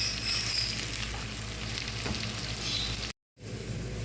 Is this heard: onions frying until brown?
yes